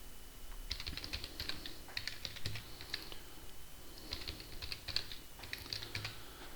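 A password is tapped out on a computer keyboard in quiet, close clusters of light key clicks separated by brief pauses, with no speech.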